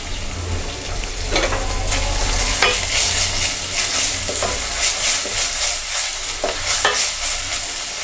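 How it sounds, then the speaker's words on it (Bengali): Green chillies and ginger-garlic paste fry in a pan with a steady, close sizzle, while a spoon scrapes and stirs through the oil in repeated strokes; no one speaks. "এখন এই উপাদানগুলোকে কাঁচা গন্ধটা যাওয়া পর্যন্ত ভেজে নিচ্ছি।"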